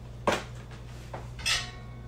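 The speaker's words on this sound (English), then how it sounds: "Place on a microwave plate in the center of the microwave." A plate is set into a microwave, with a sharp clatter of dishware, a lighter tap and a second ringing clink over a low steady hum.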